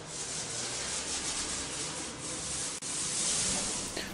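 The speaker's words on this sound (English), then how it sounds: "we want to try our best to make long vertical strokes with the roller" A paint roller rolls over a garage wall with a continuous, raspy rubbing swish that swells and eases in long, steady strokes, close-up and with no talking.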